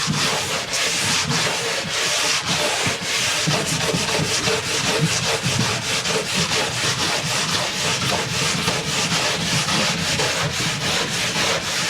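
Close, continuous scraping and brushing as leftover wax is worked off a board after scraping, a steady dense rasp with quick repeated strokes and no pauses.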